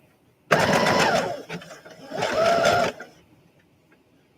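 A sewing machine runs in two short bursts while sewing a back stitch, close and fairly loud whirring with rapid needle clatter and a pause between, then near quiet.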